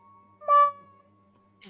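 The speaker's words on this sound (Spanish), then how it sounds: "Tiene como un maullido en un tono muy, muy raro, ¿no?" A cat meows once in an oddly high, thin pitch, a short clear call heard up close in a quiet room, followed by a brief rustle.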